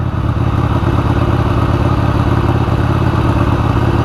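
A 1988 Harley-Davidson Sportster XLH 1200 idling close by with a steady, loud, lumpy rumble as its revs begin to sag, just before it stalls.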